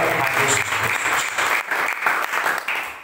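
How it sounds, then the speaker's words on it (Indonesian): Congregation at a church thanksgiving revival service for a senior high school bursts into sustained applause, dense and fairly loud clapping filling the space evenly, with some faint voices underneath. "Tepuk tangan yang terbaik buat Tuhan Yesus."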